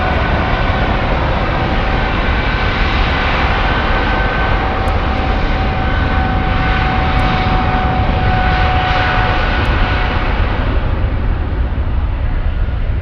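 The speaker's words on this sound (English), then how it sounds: "Let's go for the takeoff." Airliner jet engines roaring steadily during takeoff at Frankfurt airport, a loud, continuous broadband rumble that holds throughout without pause.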